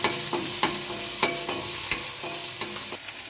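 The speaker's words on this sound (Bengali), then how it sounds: "দেবো একটা শুকনো লঙ্কা আর কালো জিরে ফোড়ন এবং রসুন কুচি" Dried red chilli, nigella seeds and chopped garlic fry in hot oil with a loud, steady sizzle, broken by rhythmic spatula strokes about twice a second, close up and with no voices.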